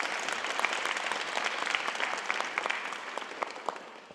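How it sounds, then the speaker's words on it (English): A room full of people claps for a speaker who has just been introduced, a member of a security research group and a data security chair. The applause is steady and moderately loud for about four seconds, with no talking. "So please give him a round of applause."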